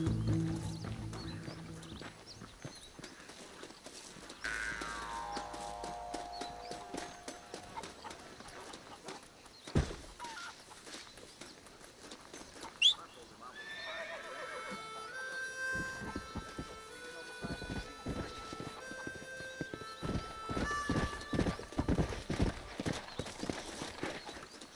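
Hooves clip-clop in rhythmic galloping bursts during a horse race in Red Dead Redemption, with a shrill whinny rising partway through, a couple of sharp thumps, and other game sounds layered over the hoofbeats.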